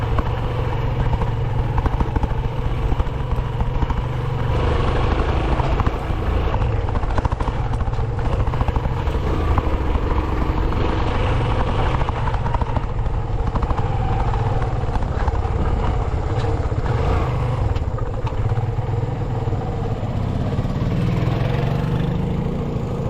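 A heavily loaded motorcycle engine labors along a rough rural road, its loud, steady drone running continuously with no talk.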